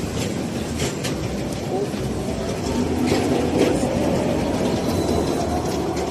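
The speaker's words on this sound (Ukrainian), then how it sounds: "Ну, куди без трамваю, так?" Tram rolling past on a Lviv street near the market square, a steady rumble of wheels on rails with faint clatter mixed into city noise, loudest midway through.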